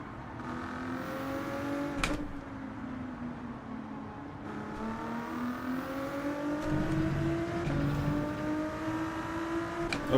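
Porsche race car engine in Gran Turismo 7 at Suzuka International Circuit, a steady mid-pitched drone that rises and falls with throttle, continuous and fairly loud throughout, with brief sharp transients.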